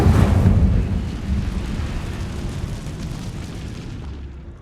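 Incendio fire spell cast in the video game Hogwarts Legacy: a loud, deep whooshing burst of flame that starts strong and slowly fades into a long roaring rumble, with no talk.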